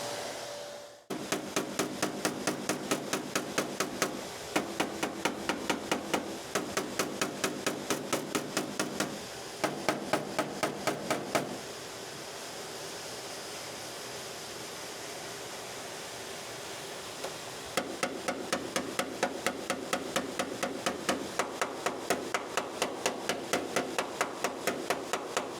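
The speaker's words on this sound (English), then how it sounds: "Get my hammer." Repeated hammer blows knock down a high spot on a 1937 Chevy steel body panel, struck in steady rapid bursts with a pause in the middle before the rhythmic tapping resumes, close and clear.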